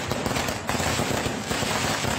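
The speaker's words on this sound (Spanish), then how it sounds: "el estruendo que generan estos fuegos artificiales" Fireworks set off at a wake, a loud, dense barrage of rapid crackling bursts and pops that fills the whole stretch without pause.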